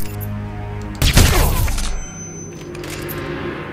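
A single sharp, loud gunshot in the video game Hitman: Absolution bursts out after a low ambient hum, followed by a short decaying rumble and then quieter background tones.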